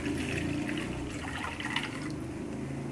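Water poured into a small mug to brew acerola leaf tea, a steady continuous liquid rush lasting throughout, fairly close and alone with no talk.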